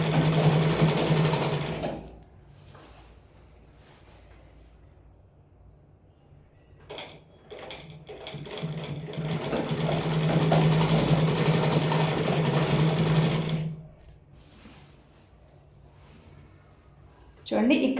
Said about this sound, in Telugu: ఇక్కడి వరకు స్టిచ్ చేస్తూ ఉన్నాను